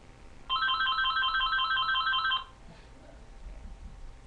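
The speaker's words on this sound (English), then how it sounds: "It's just a phone, ignore that." A phone's ringtone plays a quick, bright electronic trill of repeated tones for about two seconds, loud and clear over a quiet indoor room, then stops.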